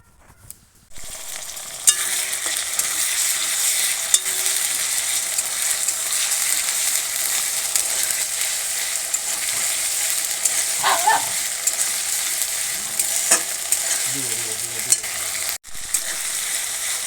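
Onion, cumin, ginger and chili pastes fry in a pan with a steady, loud sizzle that runs almost the whole time, broken by a few scraping stirs and a brief dip near the end.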